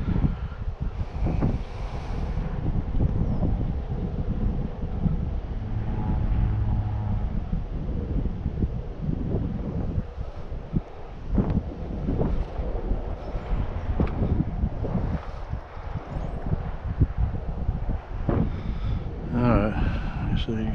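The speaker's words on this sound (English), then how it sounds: "see if his wind will die back down in just a minute" Wind buffets an outdoor microphone at an Arrma Kraton RC car speed run, a steady rough rumble that swells and dips while someone talks over it.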